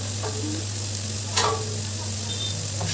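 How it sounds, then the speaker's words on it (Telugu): Pieces of fish frying in hot oil for an Andhra-style fish curry, a steady close sizzle with a low hum beneath and a single brief clink of a utensil partway through, no talking. "అవి కొంచెం ఫ్రై అవ్వాలండి బాగా."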